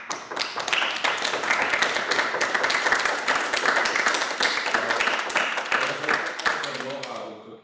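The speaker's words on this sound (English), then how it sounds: "let's give them a round of applause" Lecture-hall audience at a physics talk gives a round of applause, a dense, close run of clapping that holds steady before thinning out and fading at the end.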